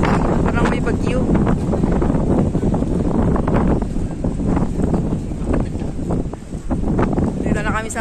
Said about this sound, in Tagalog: Grabe lakas na hangin dito guys. Parang may bagyo.